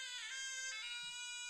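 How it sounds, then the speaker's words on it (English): A zurna, the Balkan double-reed wind instrument, bathed in reverb, sounds a short, piercing, nasal held tone with a quick note change, quiet and alone. "It's a wind instrument, and it's got sort of a bagpipe kind of sound"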